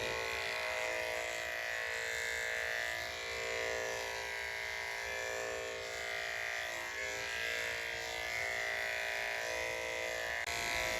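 An electric hair clipper running steadily with its blade snapped in place, a constant close buzzing hum holding an even pitch throughout with no pauses.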